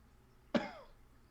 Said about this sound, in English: would you like to cue us in with one last cough